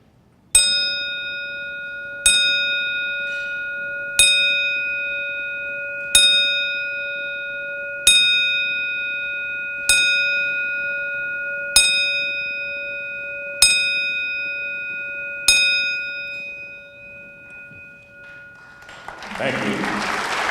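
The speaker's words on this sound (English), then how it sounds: "I'm going to ring this bell 10 times" A ceremonial bell rings in slow, evenly spaced strikes at a hall-of-fame event, each clear ring sustaining until the next, followed by a swell of applause at the end.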